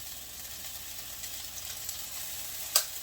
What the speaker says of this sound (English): Now I added the garlic, and we're going to stir our garlic.